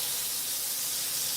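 Bacon frying in a large modern cast iron pan, a brief, even, hissing sizzle with no breaks and no voices.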